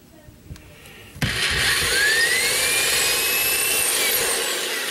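Power drill with a 1/8 inch bit boring a pilot hole for a furniture safety strap, starting abruptly after a quiet moment and whirring loud and steady close by for several seconds.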